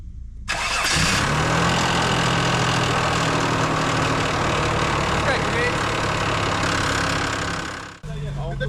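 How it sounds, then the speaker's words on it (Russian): A Mitsubishi Pajero 2 engine starts from cold with a knock, cranking briefly and then settling into a loud, steady idle that runs for several seconds before it cuts off abruptly. "Паджеро 2, холодный запуск, стучачий мотор."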